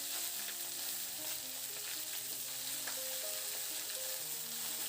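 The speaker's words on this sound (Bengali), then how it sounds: "সমস্ত সবজিগুলোকে দিয়ে দিলাম এরপর নাড়াচাড়া করে মিনিট চার পাঁচের সময় ধরে খুব ভালো করে সবজিটাকে ভেজে নেব" Chopped vegetables for Bengali shukto fry in a pan with bay leaf and five-spice, giving a steady, close, continuous sizzle with faint stirring scrapes throughout; no one speaks.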